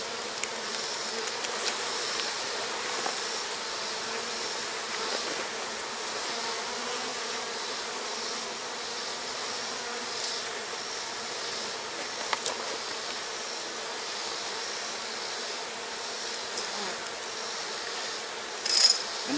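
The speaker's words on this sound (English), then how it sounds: "there's an enormous amount of bees down in that hive body there" Honeybees in an open beehive hum in a steady, soft buzz of many insects at close range, a continuous drone with a few faint clicks and a brief knock near the end.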